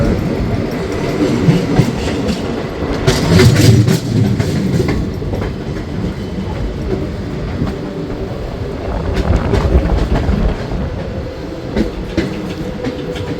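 The Yog Nagari Rishikesh Special train runs past Hatdoi railway station in summer heat, a loud continuous rumble with rhythmic clatter of wheels over rail joints and a few sharper bursts along the way.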